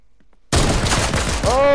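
In the video game Fortnite, a loud burst of rapid pistol gunfire erupts after a moment of near silence and keeps going dense and close, with a voice briefly audible at the end.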